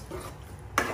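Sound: stirring beef masala in pan

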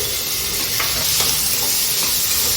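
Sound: soy sauce added to sizzling fried rice

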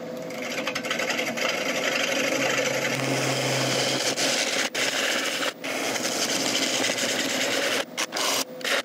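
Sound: woodturning gouge cutting a wooden bowl on a lathe

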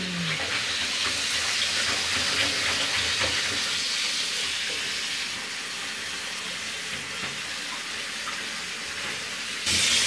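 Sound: tap water running into bath

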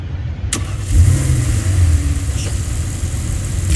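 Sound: car engine starting in video game Saints Row IV

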